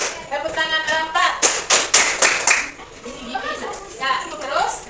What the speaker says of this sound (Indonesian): coba kalau saya bilang tepuk tangan 1, tepuk tangan 2, tepuk tangan 3, tepuk tangan 4